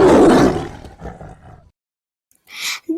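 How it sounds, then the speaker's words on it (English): A tiger gives one loud, close, rasping roar that fades out over about a second and a half, followed by a brief pause and then a short hissing breath. "This is a tiger. Young one of the tiger is cub. Tiger"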